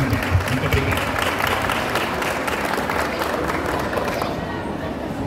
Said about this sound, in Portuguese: Nossos aplausos e nosso agradecimento, nosso carinho aos familiares do André